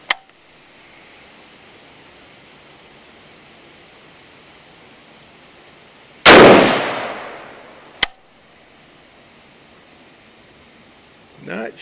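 A single loud, sharp gunshot from a DSA 58 FAL-pattern rifle fired outdoors, followed by a long decaying echo, then a fainter sharp crack about two seconds later and a short noise near the end, over steady background hiss.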